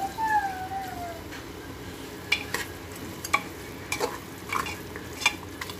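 Beef sizzles gently in a pan over a low flame as it is stirred, with soft scraping strokes and clinks recurring every second or so over a faint, steady frying hiss.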